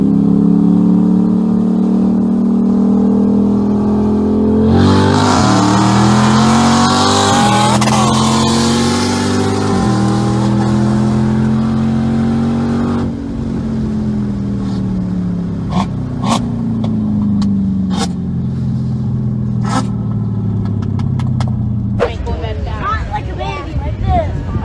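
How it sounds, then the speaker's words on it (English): Dodge Challenger Hellcat and Corvette racing, engines roaring loudly with rising revs and gear shifts, followed by sharp bursts and a scraping rush near the end. "In the next clip, you will see a Challenger Hellcat jumping the race,"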